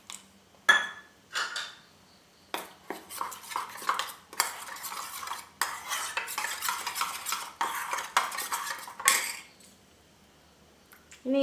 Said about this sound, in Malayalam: നന്നായിട്ടൊന്ന് ഇളക്കി യോജിപ്പിച്ച് കൊടുക്കാം